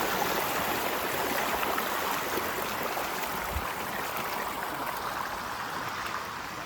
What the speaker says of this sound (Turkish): Dereden gelen sular.